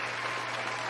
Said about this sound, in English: I ain't got that applause real quick.